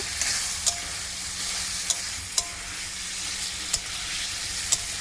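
Spices with turmeric and sugar stirred in a frying pan, a steady sizzle carrying a handful of sharp spatula scrapes and clinks spaced every second or so, close and moderately loud.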